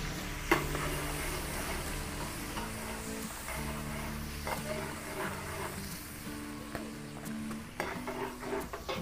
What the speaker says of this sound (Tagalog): Tutulutuin lang po natin yung bawang